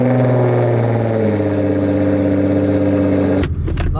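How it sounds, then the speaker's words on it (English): A widebody Nissan GTR engine cold-starts and settles into a loud, steady, droning idle nearby. It is cut off sharply near the end by a few clunks, with no talking. "Cold start now."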